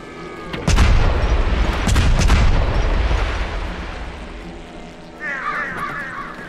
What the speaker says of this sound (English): Coming in for a bombing run. 2-2-4, launch.